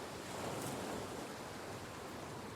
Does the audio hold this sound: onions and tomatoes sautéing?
no